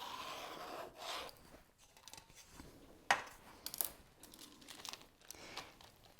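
A utensil scratches a line on wax paper traced around a cake pan, giving soft, dry rubbing and scraping strokes with a few sharper scratchy accents, close and fairly quiet with no voices.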